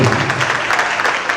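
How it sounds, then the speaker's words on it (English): Audience applause at a school event, a dense, steady burst of clapping from a large crowd that holds at an even level throughout, with no talking over it. "A round of applause for yourself."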